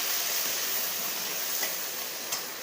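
Crushed green chili paste frying in hot oil, a steady bright sizzle with faint stirring scrapes and a couple of sharper spits near the end, close and continuous with no voices.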